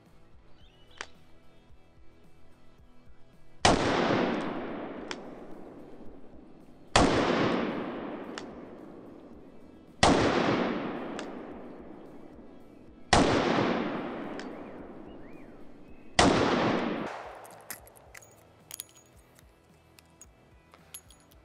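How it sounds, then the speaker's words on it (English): Five sharp, loud reports from a Ruger LCR revolver fired at targets, spaced about three seconds apart with short decaying echoes and quiet handling sounds in between. "I'm going to fire this using single action only, and then I'm gonna fire another 5 rounds using double action only"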